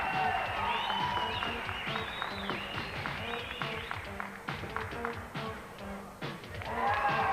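A crowd at a 1986 international BMX freestyle competition claps and cheers in waves, with shouts and whoops rising and falling. The sound is fairly close and carries on under and between an announcer's talk.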